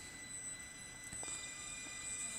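National Express train in a Roblox game on a phone, a steady faint rumble of wheels on track with light squeals and clicks, no talk over it.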